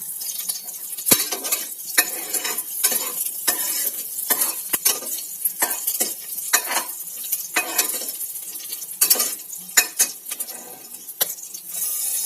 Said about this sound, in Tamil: ஒரு நாலு முந்திரி பருப்பு குட்டி குட்டியாக கட் பண்ண இஞ்சி கொஞ்சம் ஒரு ரெண்டு பச்சை மிளகா போட்டு நல்லா வதக்கிக்கலாம்